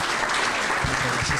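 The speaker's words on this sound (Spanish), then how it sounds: "Cedemos la palabra a la doctora Patricia Galeana, a la quien recibimos con un fuerte aplauso." Audience applause welcoming a woman historian to the lecture podium at an academic talk on Mexico, a dense, steady wash of many hands clapping close and loud throughout, with a faint voice underneath.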